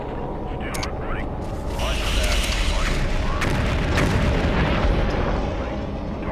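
An ammo dump blowing up in the video game MechCommander 2, a dense, loud rumbling roar of explosions and crackling booms that rolls on continuously over several seconds, with a voice speaking over it.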